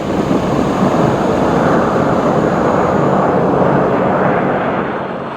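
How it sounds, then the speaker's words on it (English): A Jeep Grand Cherokee Trackhawk drives on ice, its engine giving a loud, steady roar much like a passing aircraft. The sound holds constant for several seconds, then eases slightly toward the end, with no talking. "Do you hear the sound of flying plane now? It's Jeep Grand Cherokee Trackhawk."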